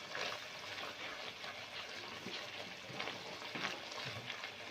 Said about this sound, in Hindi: साइडों से हम इसी तरह चम्मच लगाते रहेंगे ताकि साइडों से जले ना, क्योंकि इस वक्त हमने आग को थोड़ा तेज़ कर दिया है।